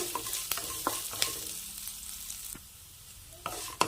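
Spices and chopped coconut are sautéed in a pan, with soft sizzling under a series of sharp spoon scrapes and taps, quieting briefly before more stirring clicks.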